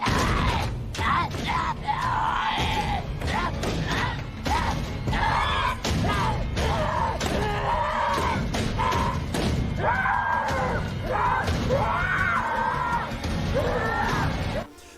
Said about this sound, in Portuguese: os gritos de zumbis que a gente está acostumado a ouvir, aquele som, né, que sai por instinto